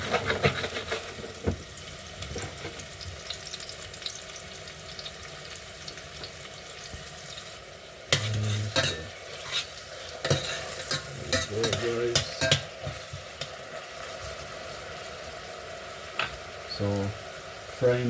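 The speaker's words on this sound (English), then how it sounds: "So frying the plantain guys, making the plantain." Plantain frying in a pan with crackling sizzle, interrupted by louder clattering and stirring bursts partway through.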